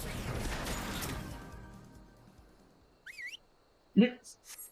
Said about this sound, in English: That damn whistle again.